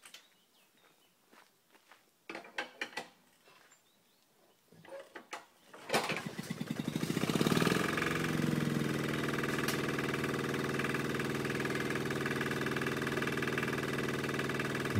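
An engine is cranked and fires up after several seconds of footsteps and handling noises, then settles into a loud, steady idle that continues to the end, with no voices.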